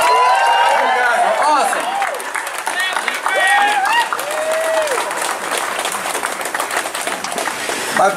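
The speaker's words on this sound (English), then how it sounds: "How about a big round of applause for our town's very own Bluegrass Jamboree Band?" An outdoor crowd at a Cedar Point hootenanny cheers a bluegrass band with sustained clapping, whoops and shouts rising over it at the start, then settling into steadier applause.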